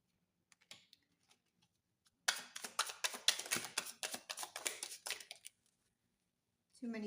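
Tarot-style cards being handled and shuffled during a psychic card reading: a few soft taps, then a dense, close riffle of rapid card flicks for about three seconds, followed by quiet and a brief final shuffle.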